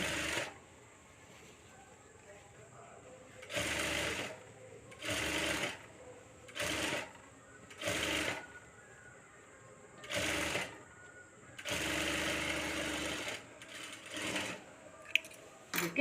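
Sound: sewing machine stitching a blouse

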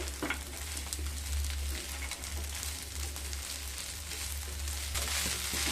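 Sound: stirring vermicelli upma in a pan

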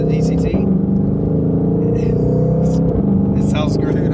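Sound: 2020 Ford Mustang Shelby GT500 engine sound while driving

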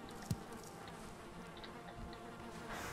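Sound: bees buzzing in the video game Valheim

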